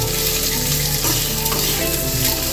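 Ridge gourd peel sautéing in a pan for a thogayal, giving a steady, close frying hiss with light stirring throughout, under faint tonal background sounds.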